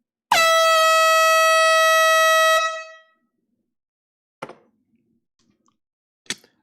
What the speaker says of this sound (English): We got a late night air horn for Gary Zimmerman.